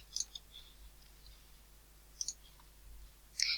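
Computer mouse clicks, quiet and close in a hushed room: a couple of sharp clicks at the start, a pair midway, and another pair near the end, with faint desk handling between.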